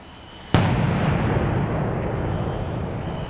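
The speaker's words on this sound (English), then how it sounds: "That was the sound of the Tucson Police Department's bomb squad disrupting a suspicious package that was" Tucson Police Department bomb squad disrupting a suspicious package near the Superior Court downtown: one sudden loud blast followed by a long rumbling, roaring wash of noise that slowly fades, with a faint second pop near the end and no voices.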